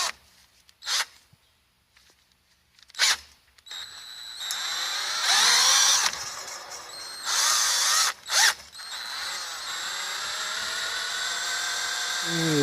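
A power drill spinning a pipe for polishing whirs in several bursts, short revs at first, then longer sustained spinning with a grinding, rattling edge, close by.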